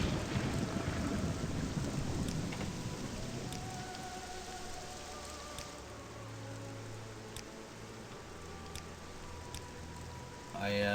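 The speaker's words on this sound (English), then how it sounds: "rain and thunder would not adhere to any of the audio sliders" Steady rain patters heavily, with a low rumble of thunder in the role-playing game Morrowind. The downpour is loudest at first, then eases to a softer wash, and a faint murmur of speech sits beneath it.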